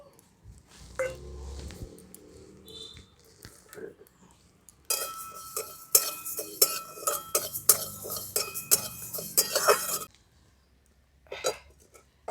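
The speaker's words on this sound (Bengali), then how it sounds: "এই শুকনো কড়াতে মুগ ডালগুলো ভেজে নেব" Dry mung dal is stirred in a hot, dry wok, giving bursts of rattling, scraping clatter as the lentils are pushed around, with quieter gaps of faint clinks before and after.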